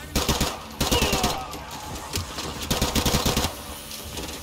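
Rapid automatic gunfire from the Modern Warfare 2 Campaign Remastered video game, a loud rattling burst that stops briefly and then resumes with dense repeated shots.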